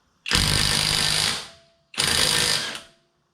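A SeyVum half-inch impact wrench loosening a tire bolt: two loud, close bursts of harsh rattling hammering, the first about a second long and the second slightly shorter, separated by a brief pause with no talk.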